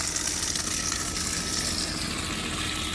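Water pours steadily into a blind inlet of a French drain set in sodded ground in Orlando, Florida, a continuous close rushing and gushing with no pauses.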